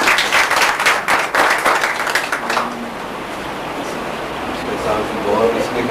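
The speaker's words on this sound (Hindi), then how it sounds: "इनके लिए भी बहुत सारी तालियां" An audience at a youth center program in Lahore claps loudly for about two and a half seconds, a burst of many hands that then fades into quieter room murmur with faint voices.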